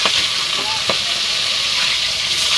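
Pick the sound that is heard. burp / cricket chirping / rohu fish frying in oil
rohu fish frying in oil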